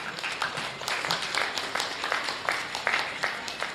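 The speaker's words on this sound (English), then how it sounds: "let's give those exhibitors a big round of applause" A modest scattering of applause for goat show exhibitors at the Jackson County Fair, individual claps standing out in an irregular, fairly soft rhythm in a roomy space.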